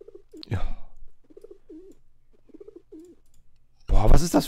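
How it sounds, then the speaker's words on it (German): A character in the video game TKKG: Film ab! makes soft, repeated pigeon-like coos in short bursts, with a click near the start and a louder voice at the end. "Das klingt wie eine Taube."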